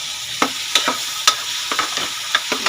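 Mushrooms sauté in a hot pan with a constant sizzle, broken by several sharp scrapes and clacks of a utensil stirring at an uneven pace, close and fairly loud.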